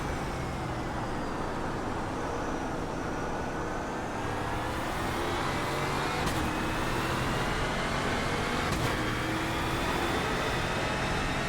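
Steady roaring drone of a NASCAR modified race car engine in a racing video game, loud and continuous with a gradual pitch sweep, plus two brief sharp clicks, no voices.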